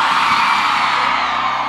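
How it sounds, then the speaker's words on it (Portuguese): A live forró concert crowd of women screams and cheers in a loud, sustained, dense wall of voices that fills the space without pause. "Cadê o grito das solteiras?"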